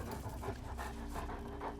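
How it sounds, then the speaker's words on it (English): A mutant dog in the video game Wasteland 2 pants in quick, even, breathy puffs over a steady game background, close and alone with no talk. "I hear something. It sounds like a dog."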